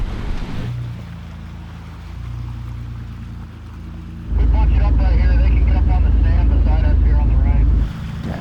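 An off-road vehicle drives through a water crossing on Kane Creek near Moab. A low engine rumble and wind noise give way to a loud rushing splash of water that runs for several seconds before easing. Voices talk underneath.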